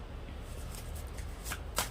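Tarot cards from a channel deck being shuffled at close range, giving a continuous soft riffle that ends in two sharper snaps of the cards near the end.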